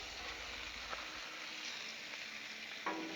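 Bacon-wrapped Big Mac burritos sizzle on a Blackstone griddle, giving a soft, steady frying hiss with a couple of faint clicks and no talk.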